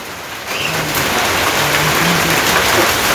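Big raindrops fall steadily in a village, a dense, fairly loud hiss and patter that thickens after the first half-second and continues without voices.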